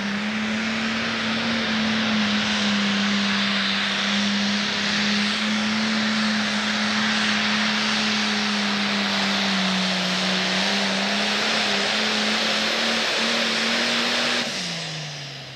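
A John Deere pulling tractor roars at full throttle through a full pull at a 1993 Sandwich, Illinois tractor pulling event, a loud, sustained engine drone with a steady low pitch that holds for about fourteen seconds before cutting off.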